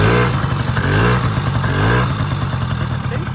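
A classic Honda Melody scooter engine runs just after starting, a close, loud rattling putter with uneven revving that rises and falls without talk.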